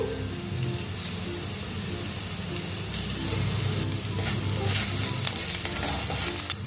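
Green chillies fry in hot oil in a pan for sabudana khichdi, a constant loud sizzle with scraping stirs that grows fuller toward the end, heard up close without speech.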